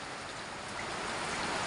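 Heavy rain from Typhoon Carina in Metro Manila pours down in a dense, steady hiss that swells slightly louder toward the end, with no voices present.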